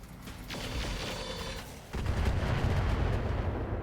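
A Jenner mech in the RogueTech video game fires on vehicles with a continuous rumbling barrage of weapon fire and blasts. The barrage grows heavier and louder partway through, with no voices.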